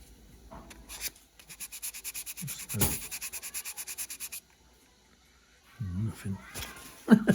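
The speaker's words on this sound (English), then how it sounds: "Sanding away at nothing there." Hand sanding on a 1/48 scale Airfix plastic model kit part, a run of quick rhythmic rasping strokes up close, then a pause before a few louder scrapes and a brief voice near the end.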